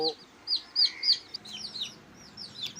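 Pure Indonesian breed chicks and chickens give repeated high chirps and short clucks from close by, with brief pauses between bursts of calls and a low murmur underneath.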